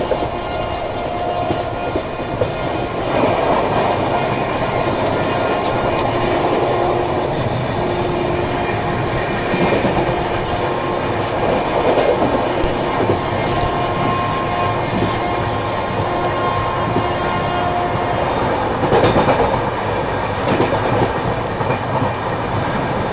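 A long train rolls past on Indian rail as the Kalinga Utkal Express is overtaken, with steady wheel rumble and clickety-clack, faint squealing and humming tones carrying for over twenty seconds without speech.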